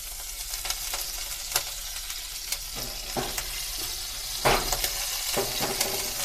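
Butter sizzles in a pan for frying bread, a steady crackling hiss dotted with sharp clicks and spatula taps, heard close up and without speech.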